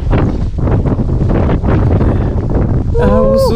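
Strong wind during a snowstorm in Norway buffets and roars against the microphone in loud continuous gusts, with a voice breaking through near the end.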